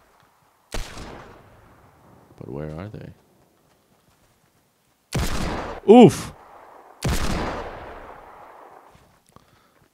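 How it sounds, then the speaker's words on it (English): Hand cannon and heavy weapon fire booms in a shooter video game, several loud, sharp blasts spaced seconds apart with decaying tails, with a voice exclaiming between shots. "There's a shoot-off going on. Sounds like a hand cannon and a heavy."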